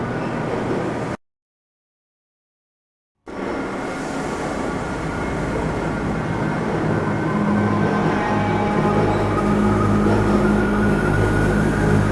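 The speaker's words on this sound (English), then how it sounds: "Train is inbound from Level 3 dormitories" A tram train rolls in on its track in the video game Black Mesa, a steady, loud rumble with rattling and mechanical hum that builds gradually, broken by a brief silent gap near the start.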